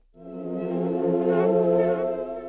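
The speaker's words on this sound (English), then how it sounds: "Then we have sad saw." A warm sawtooth SKY Keys sad saw preset chord swells in after a brief silence and sustains, rich in buzzy harmonics, played alone at moderate volume.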